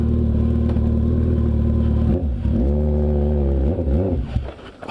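A 2016 Kawasaki ZX14 motorcycle engine while riding: a loud, steady, close engine drone with a couple of rev dips and swells as the rider shifts, ending on a falling rev.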